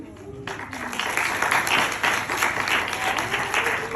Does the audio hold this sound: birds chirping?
no